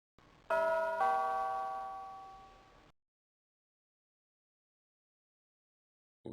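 A two-tone ding-dong doorbell, rung by a bell pull at a Shoreditch house in the video game The Lost Files of Sherlock Holmes: The Case of the Serrated Scalpel, chimes clearly once and fades into silence.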